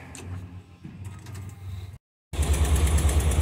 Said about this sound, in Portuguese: Olha o barulhinho do motor.